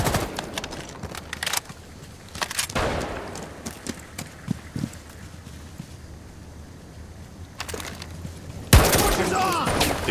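Gunfire in the tactical shooter Rainbow Six Siege during a hostage extraction round, with scattered sharp shots and short bursts amid game noise and a louder burst near the end, with some voices present.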